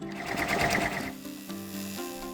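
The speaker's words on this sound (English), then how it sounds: "now we're going to return the hoop to the machine and run our final satin stitching" An embroidery machine stitches the final satin border on fabric hearts, a close, steady mechanical whir with rapid needle chatter that runs louder at first and then settles into a lighter, even hum.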